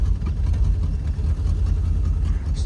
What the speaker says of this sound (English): Do we have a vacuum leak? Hear that?